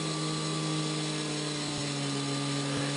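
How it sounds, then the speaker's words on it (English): A diamond blade saw cuts through a concrete driveway, giving a steady, loud high-pitched whine with a constant tone that runs unbroken throughout. "This is a diamond blade and it cuts really quick."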